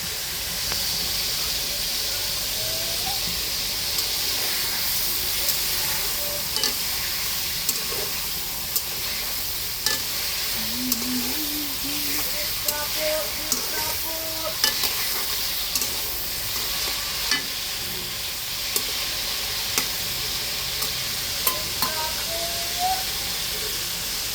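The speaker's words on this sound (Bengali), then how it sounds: "চিংড়ি মাছ দিয়ে রান্না করা হবে চিংড়ি পোলাও" Prawn pulao cooks in a pan with a continuous hissing sizzle, broken by repeated stirring scrapes and small clinks throughout.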